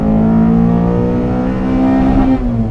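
A 2014 Honda Civic Si, naturally aspirated and making 260 wheel horsepower, revs hard in a loud, close, sustained high-pitched wail, its pitch holding steady then easing slightly near the end, with no talking.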